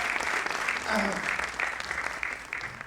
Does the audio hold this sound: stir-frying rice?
no